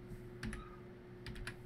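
Quick keystrokes on a computer keyboard come in two short bursts, first a pair of taps and then a run of three or four, close and quiet over a low steady hum.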